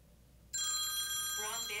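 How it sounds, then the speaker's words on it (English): A telephone rings indoors, a bright electronic trill that cuts in suddenly and holds steadily loud for over a second. "Excuse the phone there."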